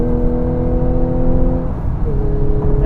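A manual-transmission 2016 Audi S5 coupe's engine swells loud and close as the driver downshifts, one steady rev rising then settling, with no talk over it.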